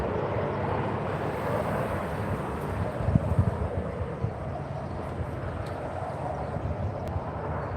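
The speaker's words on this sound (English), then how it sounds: "Chopper flying over there." A transport helicopter passes overhead as a steady, distant, droning rumble, with wind noise at the microphone.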